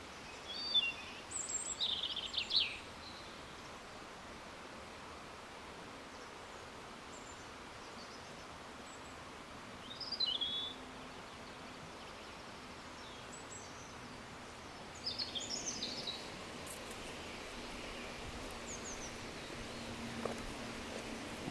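Wild birds chirp and call in brief, scattered bursts at a moderate distance outdoors, with a steady background hiss of ambient noise between calls and no talking.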